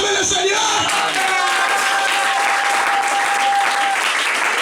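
Church congregation applauding and cheering for the Lord, loud sustained clapping with shouts and cheers from a large crowd, a drawn-out voice rising over the din.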